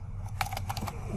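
Keys clack on a computer keyboard while ASP.NET and C# are entered in a WooCommerce e-commerce store setup, a quick run of close, soft taps over a low steady hum.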